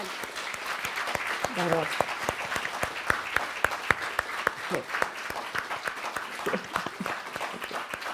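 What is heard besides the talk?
audience applause in the room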